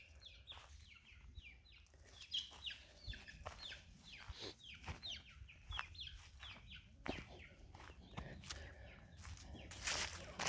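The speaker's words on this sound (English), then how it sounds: "I'm going to go check the chickens." Several chickens cluck and squawk in short, overlapping bursts, fairly close, with a restless, continuous chatter throughout.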